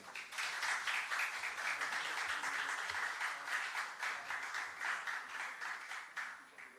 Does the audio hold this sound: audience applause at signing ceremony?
yes